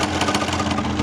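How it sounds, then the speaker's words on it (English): A 1988 Yamaha TDR250 two-stroke motorcycle engine ticks over at idle, a steady close buzzing drone with a quick, even pulse and no voices. "It's a really nice free revving engine, very smooth as well on tickover."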